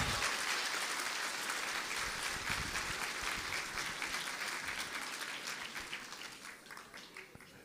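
Applause from an audience at a live stage event, sustained and dense with many hands clapping throughout, gradually tapering off toward the end.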